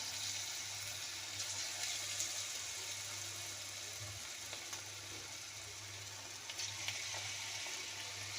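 Veg cabbage Manchurian balls deep-fry in hot oil, a steady faint sizzle and bubbling hiss over a low background hum, continuous and close.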